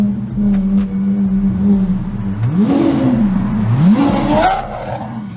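Several Lamborghini Aventador Ultimae supercars drive past on a Brisbane road. Loud engine roar sweeps up and down through rising revs and gear changes, close by and growing louder.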